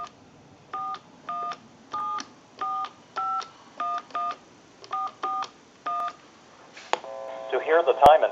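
Touch-tone DTMF dialing from a repaired designer desk telephone, a rapid run of about a dozen short even beeps in quick succession, followed by a brief line tone and the start of a recorded voice answering.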